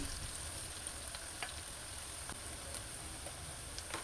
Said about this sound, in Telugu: ఒకటిన్నర ఉల్లిగడ్డ డీప్ ఫ్రై చేసుకోవాలండి ఉల్లిపాయ బాగా వేగే వరకు వేయించుకోవాలి